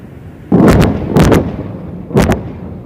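Three heavy bomb blasts from parachute-retarded bombs striking an enemy thermal power station, each a loud, booming burst with a decaying rumble, spaced about a second apart and alone without talk.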